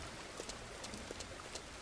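Steady, faint hiss of rain falling on a farm in the game Farmer's Dynasty, an even wash with soft patters throughout, no voices.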